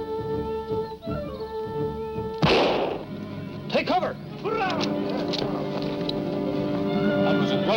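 A single sharp gunshot cracks out partway through, breaking a background of sustained musical tones, followed by lingering echoes and a few shorter bursts.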